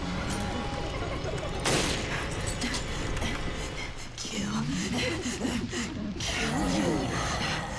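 Gunfire in the Resident Evil Revelations video game, with sharp shots over a busy game soundtrack and quiet talk underneath.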